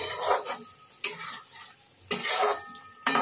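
Pointed gourd (potol) being stirred in sizzling oil and gravy in a pan, with spoon scrapes coming in bursts roughly every second over a soft background sizzle.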